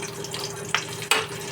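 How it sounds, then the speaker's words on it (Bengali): Black cumin seeds and green chillies hit hot mustard oil on medium heat, giving a close, steady sizzle with two brief louder crackles. "এবার দেখো এই তেলটাতেই আমি কালো জিরে আর দুটো তিনটে কাঁচা লঙ্কা দিয়ে দিলাম"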